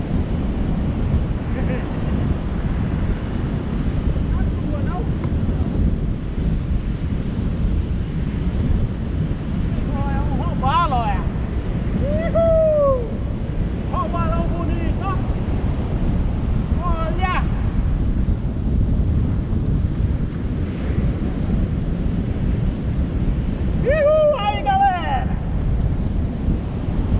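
Wind roars steadily across the microphone on the beach at Búzios, with surf washing in the background and a few faint calls or voices rising briefly over the constant noise.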